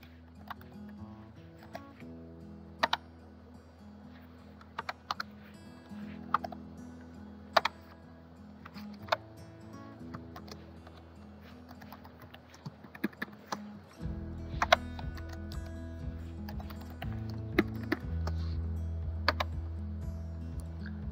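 Irregular bursts of key clicks sound as a username and password are typed on a computer keyboard, sparse taps with pauses over a steady low hum that grows louder partway through.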